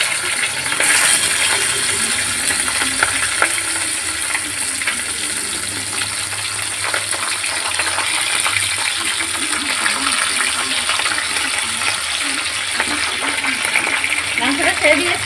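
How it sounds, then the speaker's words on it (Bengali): Browned chicken pieces dropped into hot oil with whole spices over a low gas flame, giving a continuous, fairly loud sizzle and crackle up close, with a voice talking over it. "এবার যে মাংসগুলো লাল লাল করে ভেজে রেখেছিলাম, গ্যাসের ফ্লেমটা একদম লোতে দিয়ে মাংসগুলো এর মধ্যে ছেড়ে দিচ্ছি।"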